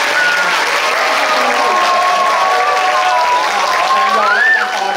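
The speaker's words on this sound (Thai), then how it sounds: "ก็ขอเสียงปรบมือและเสียงกรี๊ดให้กับน้องๆทีมเอ็มบีตี" A student audience applauds and cheers the MBT team at a science talk, a loud dense wash of clapping and screams with a sustained high voice rising above the crowd noise.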